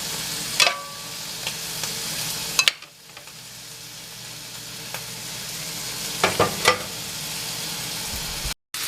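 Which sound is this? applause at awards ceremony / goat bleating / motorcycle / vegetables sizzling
vegetables sizzling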